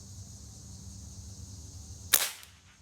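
A Kral Puncher Jumbo .22 air rifle fires an 18 grain pellet, a single sharp crack near the end, standing out against steady low background hum and quickly dying away.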